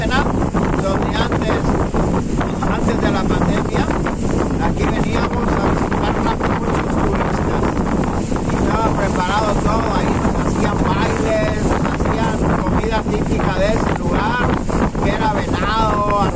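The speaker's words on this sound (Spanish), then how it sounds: "Al parecer esta lancha viene de Guaynabota" A motorboat on the Aguamilpa reservoir in Nayarit, Mexico drones steadily amid heavy wind buffeting on the microphone, with water noise and indistinct voices mixed in.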